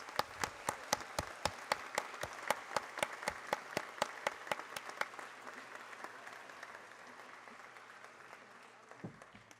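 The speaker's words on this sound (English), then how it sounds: "Please join me in applauding all of these doctoral scholars." Audience applause at a university graduation ceremony honouring doctoral scholars, a dense run of claps in a large hall that starts strong with sharp individual hits and gradually thins and fades toward the end.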